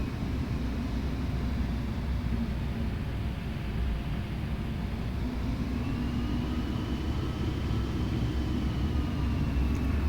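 A Delta airliner taxis toward its runway at Atlanta airport, with a steady, loud low rumble and broad engine hiss holding constant throughout and no voices.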